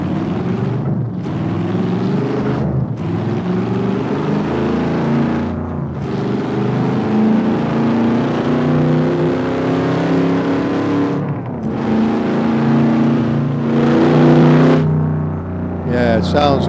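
A car engine running and revving while the car turns around, a steady motor drone rising and falling through several revs at close range, with brief pauses between pulls and some talk over it.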